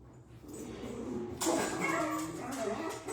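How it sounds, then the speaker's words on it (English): Several dogs bark and yip in the background during a paper-crafting session, a burst of barking starting partway through and continuing, somewhat distant and mixed with room noise. "oh, there go the dogs"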